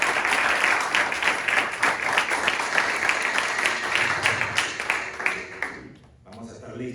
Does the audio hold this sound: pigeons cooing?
no